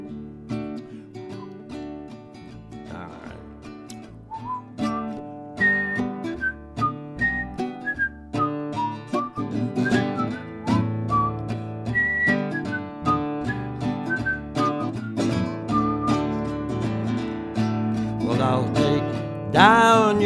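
People whistle along to a live performance of a song, bright whistled melody lines running over sung and played music, steady and loud throughout with no talking.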